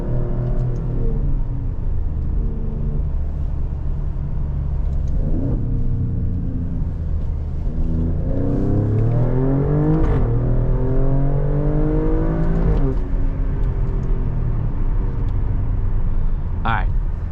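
A 2020 Alfa Romeo Stelvio Quadrifoglio SUV accelerating hard, its engine note climbing through several gears with rising revs and brief shift breaks, heard loud and close from inside the cabin, with some talk mixed in.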